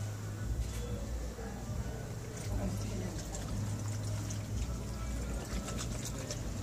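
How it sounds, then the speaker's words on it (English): Hands are washed under running water, a faint steady stream with soft splashing and brief clinks, quiet and close. "Just washing my hands."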